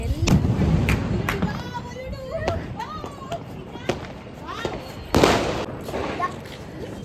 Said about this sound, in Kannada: ಎಲ್ಲರೂ ಹೇಗೆ ಪಟಾಕಿನ ಹಾಕ್ತಾ ಇದ್ದೀವಿ. ಎಲ್ಲ ಕಡೆ ಹೊಡಿತಿದೆ